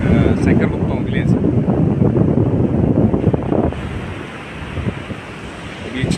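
Waves break along a beach at Sankaraguptam village in Razole under strong gusting wind buffeting the microphone, a loud continuous rushing roar that eases partway through.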